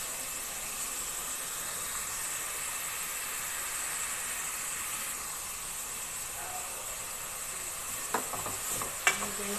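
Fish stirred whole into a pan of sizzling mixed vegetables with mung beans, a steady broadband hiss of frying throughout, with a few brief utensil scrapes and knocks near the end.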